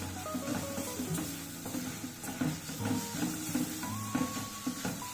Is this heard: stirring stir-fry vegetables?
yes